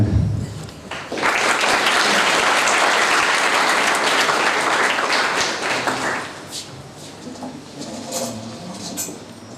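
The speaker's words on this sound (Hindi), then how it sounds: "आप लोग तालियों से स्वागत कीजिएगा" A burst of enthusiastic clapping from an audience at a school author event swells quickly, holds loud for several seconds, then thins out into scattered claps.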